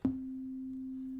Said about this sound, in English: straight sine wave